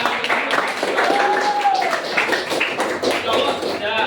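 Classroom applause from students, a scattered run of claps mixed with chatter and voices throughout, fairly close and steady.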